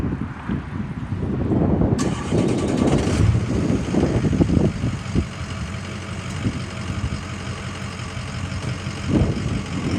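A rebuilt 2005 Ford F350 Super Duty with a 6.0 L Powerstroke diesel runs steadily, a loud, close engine rumble with a brief higher whine partway through and some wind buffeting on the microphone.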